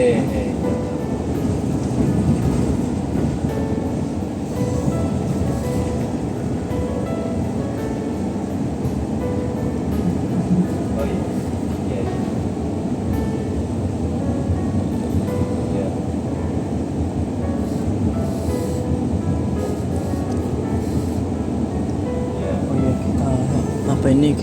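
Interior of a train carriage passing Jatibarang station, a steady loud rumble of wheels and car noise throughout, with people talking over it.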